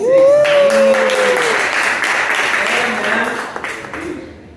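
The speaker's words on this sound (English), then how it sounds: "Hearing that applause" An audience applauds steadily at a live talk. The clapping is loud and close, and a voice rings out at the start.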